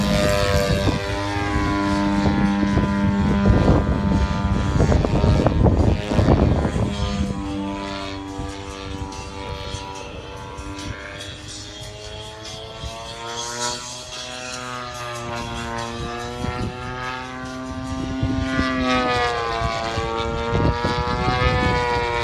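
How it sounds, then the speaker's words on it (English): An F-55 airplane flies overhead near Benton City, Washington, a loud, sustained propeller and engine drone with slowly shifting pitch as it passes close by, steady for over twenty seconds with no talk. "The F-55 is a great plane."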